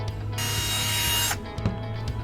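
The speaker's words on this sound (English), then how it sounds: "A keyless chuck is meant to only be hand tightened." A keyless chuck on a Bosch GSR 120-LI Professional cordless drill is tightened by hand, producing a loud continuous ratcheting whir for about a second, then a few short mechanical clicks over a low steady hum.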